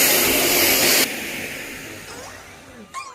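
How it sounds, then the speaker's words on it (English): A Bosch Serie 2 vacuum cleaner runs loud and steady for about a second, then cuts to a lower, fading hum, with a brief higher whine near the end. "Mama's going to vacuum the sofa"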